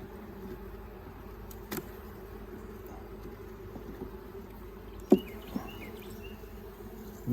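Honey bees from hobby beekeeping hives buzzing close by in a continuous, steady drone, with a few soft knocks and clicks of hive handling and no talk.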